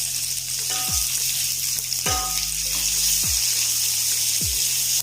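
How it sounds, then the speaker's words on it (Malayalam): Chopped onion, ginger and green chilli fried in hot oil for a capsicum stir fry, a loud continuous sizzle with a few low thuds and knocks of the pan beneath it. "നമുക്ക് അരിഞ്ഞു വെച്ച് ഉള്ളിയും ഇഞ്ചിയും പച്ചമുളകും ഇട്ട് കൊടുക്കാം."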